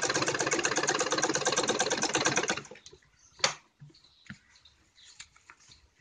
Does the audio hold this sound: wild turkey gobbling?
no